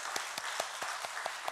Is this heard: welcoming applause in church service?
yes